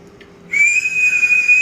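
A pressure cooker whistle blows loud and close, a sustained high hiss-whistle starting abruptly and holding steady after a quiet moment in a home kitchen.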